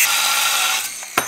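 A ratchet tightening a nut on the upgraded clutch of a Wildcat 700 Sport, a steady close mechanical clicking that runs throughout, ending with a sharp metallic clack near the end.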